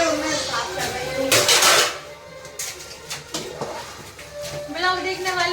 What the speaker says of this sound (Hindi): बर्तन धुल रही है और मैं साफ कर रही हूँ।